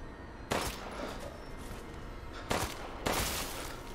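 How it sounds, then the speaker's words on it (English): Gunshots in Resident Evil 8, three sharp, loud blasts a couple of seconds apart, each with a short echoing tail over a low background. "I shot you in the head"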